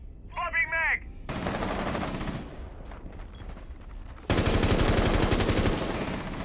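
Bursts of automatic gunfire from Sledge laying down cover fire in Rainbow Six Siege, a short chirpy blip leading into sustained loud rattling volleys, with a denser, louder burst near the end.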